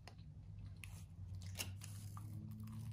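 Close, quiet crunching bites into a flaky pistachio croissant, with crisp crackles and soft chewing against a faint hum.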